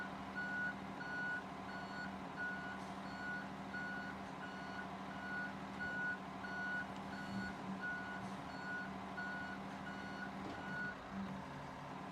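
In a truck driving video game, a truck reverses with a regular series of evenly spaced backup beeps over a steady low engine drone, continuous and clear with no talk.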